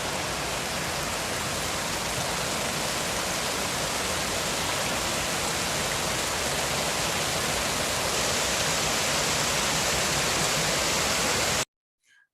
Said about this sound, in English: Just hearing the water kind of cascading over these things called weirs.